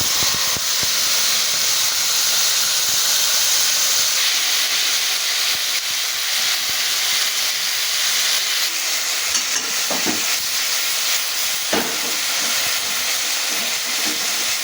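Marinated fish hitting hot oil tempered with mustard seeds in a kadai: a loud, continuous broad sizzle and hiss up close, with occasional pops and crackles breaking through the steady frying.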